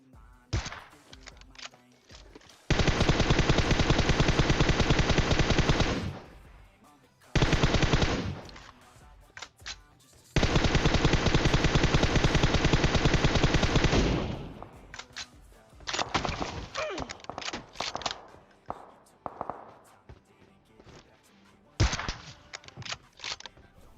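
Bursts of automatic gunfire in the PUBG Mobile battle royale game, with long loud sustained rattling volleys separated by shorter bursts and quieter gaps, close and dominant.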